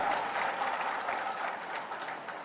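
Audience applause at a BC community political meeting, a dense, steady clapping from a large crowd filling the whole stretch at fairly even loudness, with no voices on top.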